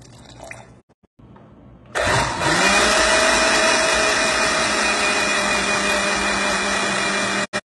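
A blender whirs loudly and steadily as it mixes milk powder, oil and water for an eggless honeycomb cake, starting after a brief quiet lead-in and running continuously before cutting off abruptly.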